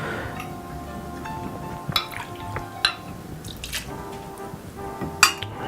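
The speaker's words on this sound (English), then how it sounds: "So I'm gonna start off with the dry vermouth." Dry vermouth is poured for a classic cocktail, giving a faint liquid trickle among several glassy clinks and taps of bar tools, close and fairly quiet with no talk.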